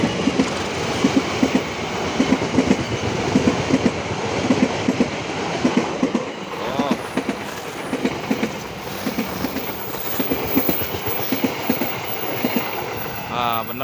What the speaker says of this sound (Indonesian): kereta Dharma Wangsa kayaknya bawa kereta luar dinas ini, kereta luar dinas panoramik